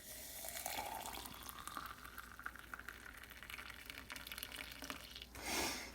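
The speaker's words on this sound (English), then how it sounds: "when I pour the water into the AeroPress with the coffee grounds inside" Hot water poured into an AeroPress holding coffee grounds gives a faint, steady trickling stream that runs for several seconds and ends in a brief louder splash.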